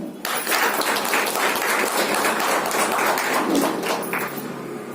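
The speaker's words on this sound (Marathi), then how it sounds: "DXN साठी टाळ्या वेगळ्या" Sustained crowd applause at a women's business meeting in Badlapur, dense steady clapping from many hands filling the room throughout, with no talking over it.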